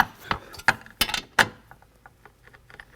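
Wrench clicks and metallic taps while tightening a bolt on a Can-Am Spyder floorboard mount, a few sharp close ratcheting clicks in an irregular rhythm that fade into softer ticks.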